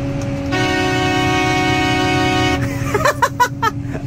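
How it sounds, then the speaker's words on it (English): A loud, blaring truck air horn sounds once for about two seconds, close and sustained, followed by a few short toots and rumbling engine. "Oh, I love this air horn."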